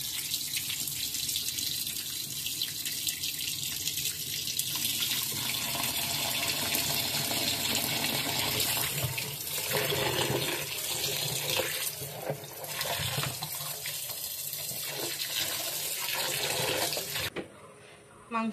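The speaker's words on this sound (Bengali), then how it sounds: "তাহলে এই মাংসগুলো আমি এখন ধুয়ে নেব। ধুয়ে একদম সুন্দর করে পরিষ্কার করে নেব।" Pieces of mutton washed under a running kitchen tap, a steady close rush of water splashing over meat in a sink, with occasional sloshing and handling noises.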